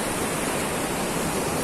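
Strong sea waves at a beach wash in a steady, loud, broadband roar that fills the whole short stretch without a break or voice.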